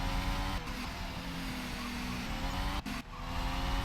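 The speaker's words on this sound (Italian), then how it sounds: "Mamma mia che rumori, qua il cambio non è contento." A Formula 1 car engine in the video game GP4 drones loudly and continuously at high revs, with brief dips as gears shift, the gearbox sounding strained and harsh.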